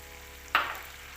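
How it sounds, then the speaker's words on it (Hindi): Beef trotters frying in a pot give a short burst of sizzle and stirring, close and brief, over a low, steady background hum, with no talk. "हमने पायों को 5 मिनट तक अच्छी तरह भुनना है।"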